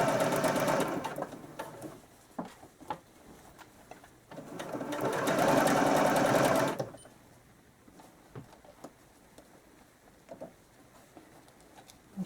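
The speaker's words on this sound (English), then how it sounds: "So now we're going to just sew back the way we just came." A sewing machine runs along a zipper seam in two loud stretches of rapid, steady stitching, then falls quiet apart from scattered taps and handling of fabric and pins.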